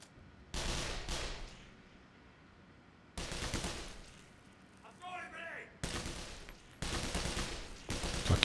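Bursts of gunfire in the video game Black Mesa come in several loud volleys separated by brief lulls, with some chattering mechanical noise in between.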